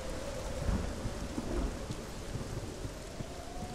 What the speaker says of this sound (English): Why does it have to be raining?